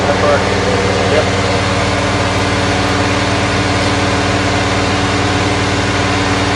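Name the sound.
car engine running at 2,000 RPM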